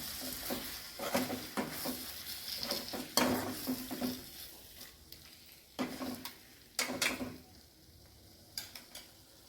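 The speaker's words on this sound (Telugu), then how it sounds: "మసాలా అంతా రొయ్యలకి పట్టేటట్టు కలుపుకుందామండి కొంచెం అలా వేయించుకుందామండి" Prawns fry in masala in a pan, with a soft sizzle under intermittent scraping stirs that come in irregular bursts at close range.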